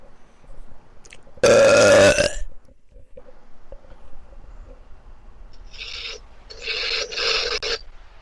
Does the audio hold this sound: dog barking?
no